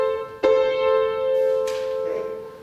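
Two piano voices held in static motion, both pitches staying put: one chord struck, then a second strike on the same notes, ringing close and clear with no talking.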